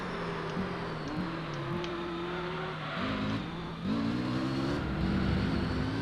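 A GTR race car in Gran Turismo 3 pushing hard through a corner with lots of tyre smoke, its engine note rising and dropping through several shifts, loud and continuous.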